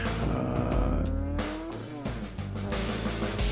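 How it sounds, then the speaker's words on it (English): A little Mazda RX-7 with a rotary engine, in the production class, screams at high revs during a land speed run on the El Mirage dry lake. The loud wail climbs in pitch through the gears, with a brief dip between shifts. "You can hear that rotary really winding the heck out."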